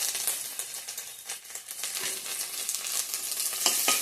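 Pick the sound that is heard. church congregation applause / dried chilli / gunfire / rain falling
dried chilli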